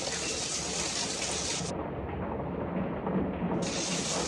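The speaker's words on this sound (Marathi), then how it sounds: "अजून पाऊस थांबत नाही संध्याकाळपासून पडतो" Heavy rain pours steadily late at night, a dense broadband hiss that stays loud and unbroken throughout, with no voices.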